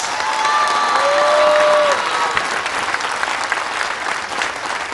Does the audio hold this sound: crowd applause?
yes